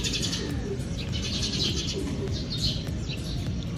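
Pigeon cooing and bird calls sound at a pigeon loft over a steady wash of rain, with low murmurs and soft chirps throughout.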